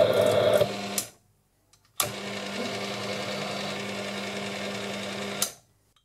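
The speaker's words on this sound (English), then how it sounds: "I'm cutting this thread using a conventional right-handed internal thread tool" A metal lathe cuts an internal thread with a conventional right-handed internal threading tool: a steady close mechanical whir with a low hum runs for about a second, stops, then returns for a longer run of about three and a half seconds.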